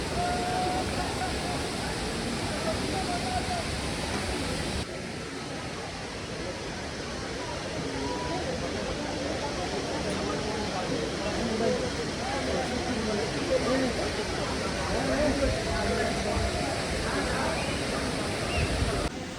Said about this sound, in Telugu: చూడండి ఎలా వాటర్ పడుతున్నాయో. వాటర్ సౌండ్ వినిపిస్తుంది అనుకుంటా మీకు.